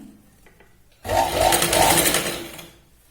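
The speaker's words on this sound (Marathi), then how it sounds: "आता बघा बाहेरून आधी आपण याला शिलाई लावतोय" A sewing machine stitches a katori blouse, starting abruptly after a quiet moment and running loud and close in a steady whirring burst before slowing toward the end.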